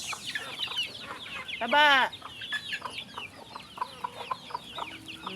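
Chickens cluck and squawk at close range in a backyard farm pen, with one loud, drawn-out squawk rising above the steady chatter of the flock; a person briefly calls out over the birds.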